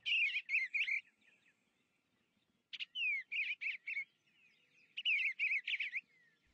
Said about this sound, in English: like this bluebird